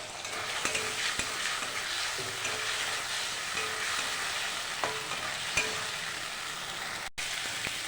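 Spice paste of Kashmiri chilli powder and turmeric sautéing in a pan, a continuous close sizzle broken by occasional stirring knocks and taps, with no talk over it.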